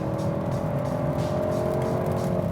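Jaguar E-Pace 2018 with a 2.0-liter turbo engine pulling under acceleration, a steady droning engine hum with rising tonal whine, heard from inside the cabin and continuous throughout.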